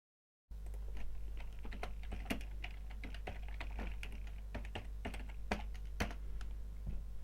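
Sample text typed on a computer keyboard into a LibreOffice Calc spreadsheet cell, a quiet, close, irregular run of key clicks with a few louder strikes, continuing alone without talk.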